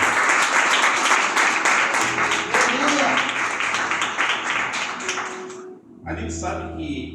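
A church congregation applauds in a dense, sustained burst of many hands clapping that fades toward the end, with voices talking and calling out over it.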